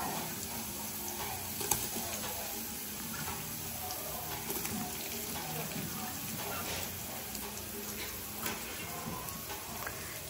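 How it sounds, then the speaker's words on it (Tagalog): Onion sizzling in a hot pan while cooking goat kaldereta, a soft, steady crackle with occasional small pops, fairly faint throughout. "Tapos, isunod na natin ang sibuyas."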